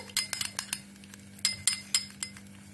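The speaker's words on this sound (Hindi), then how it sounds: "आपको अच्छी तरह से मिक्स कर लेना है इन दोनों चीजों को" A spoon stirs a vitamin E skin mixture in a small container, giving a few bright clinks and taps in quick clusters with short pauses, close and fairly loud over a faint steady hum.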